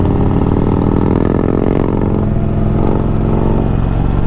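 A Harley-Davidson motorcycle's exhaust rumbles up close and loud while riding among a group of Indian motorcycles near Galveston Bay, a deep throbbing engine note that swells and settles, with no talk.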